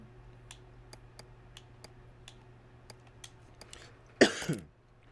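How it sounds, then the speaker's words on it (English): A single harsh cough bursts out near the end, following several seconds of quiet regular ticking. "Damn, I hate this fucking cough."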